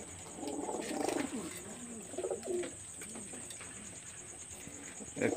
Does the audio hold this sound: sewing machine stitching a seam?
no